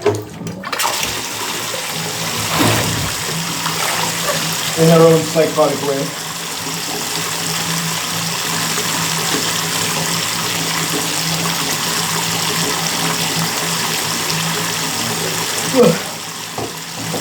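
Hot water running from a tap into a sink, a steady hiss of flow lasting throughout, with a person speaking over it.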